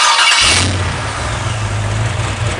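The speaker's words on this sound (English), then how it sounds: "I'm going to start this up and then I'm going to activate the throttle pedal. You're going to hear it rev" A 2006 Pontiac GTO V8 cranks and catches near the start, then holds a loud, steady engine roar as the throttle is applied, close and alone.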